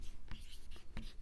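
Pen or pencil writing on paper while working a Class 10 maths problem, short scratchy strokes with a few brief louder taps, close by with no talking.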